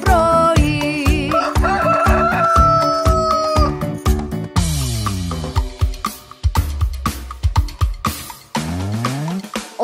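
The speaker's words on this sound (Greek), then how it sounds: "το κοκοράκι κικυρικικί θα σε ξυπνάει κάθε πρωί" A rooster crows amid a bright, busy children's song, its call blending with steady music and rhythmic percussion throughout.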